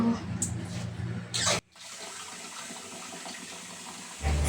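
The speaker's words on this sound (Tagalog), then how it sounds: "kumuha na nga ng tubig si madam. So ayan, binasaan niya yung kanyang paa." Water scooped from a basin and poured over feet in a bathroom: a short splashing pour, then a quieter stretch of trickling and dripping before another burst of running water.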